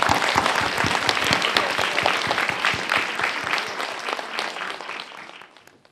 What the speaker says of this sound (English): Let's give a warm applause to welcome Professor Gan.